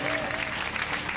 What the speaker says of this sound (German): Unter dem Applaus der Zuschauer verlassen alle Künstler, auch der Vox Club, die Bühne.